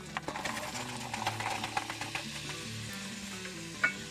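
Onions fry in butter in a pot over low heat, a quiet, soft sizzle broken by small clicks and taps of stirring, with one sharper knock near the end.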